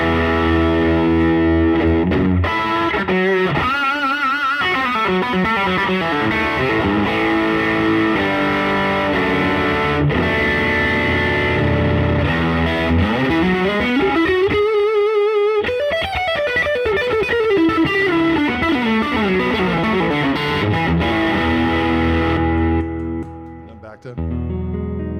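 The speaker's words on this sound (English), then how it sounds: "It sounds like a fuzz." Electric guitar driven through an OTS boost pedal with a thick, fuzz-like distorted tone, played loud and continuously with sustained notes and bends for most of the span, cutting off near the end.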